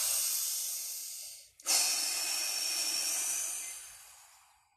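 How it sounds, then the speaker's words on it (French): Two deep, forceful breaths during a morning breathing exercise, each drawn in through the nose and blown out through the mouth, heard close and alone with a brief pause between them. "on va aussi donc inspirer par le nez, souffler par la bouche. Mais là, on va le faire et profondément, mais rapidement"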